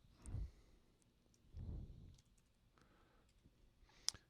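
A single sharp computer mouse click sounds near the end, crisp and close, after a few low soft bumps and breaths on an otherwise quiet desk.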